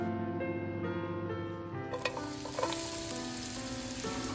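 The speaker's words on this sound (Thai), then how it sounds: "หอมพริกขิงก็เอาลงไปก่อนคั่วให้มันหอมๆก่อนนะคะ" Shallots, chili and ginger stir-fry in a hot pan with a steady, dense sizzle, and the scrape of stirring comes in after about two seconds, close and continuous.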